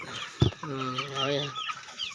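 Backyard chickens give a sharp knock followed by a drawn-out, wavering cluck-like call, close and moderately loud, with faint background noise.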